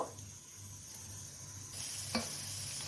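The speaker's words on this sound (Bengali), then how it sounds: "এক এক করে মাছগুলো ফ্রাই করে নেব" Chitol fish pieces frying in hot oil in a kadai, a steady close sizzle with a brief clink partway through, growing slightly louder and brighter toward the end.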